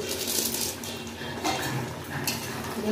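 Crab curry being stirred in a pan, with spoon scraping and clinking against the metal and a soft sizzle, several strokes close by over about three seconds.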